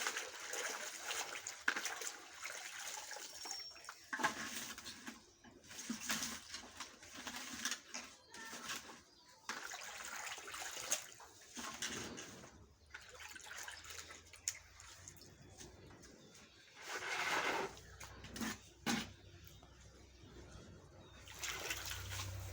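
Water runs and splashes at a low level in uneven bursts while boiled taro is rinsed. There are small drips and trickles and brief handling noises.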